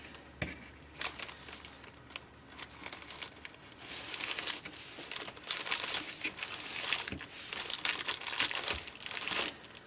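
A small clear plastic party treat bag crinkles close up, with dense, irregular rustling bursts that grow busier and louder in the second half, and no voices.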